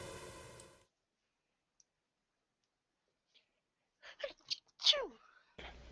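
A single sharp sneeze bursts out close to the microphone during a tabletop role-playing game session, after a few seconds of near silence, with brief breathy sounds just before it and a voice starting up right after.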